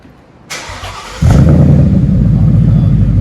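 A 2017 Ford Mustang GT 5.0 with dual exhaust and pipe bombs cranks with a starter whir, then fires up into a loud, deep, steady rumbling idle close by.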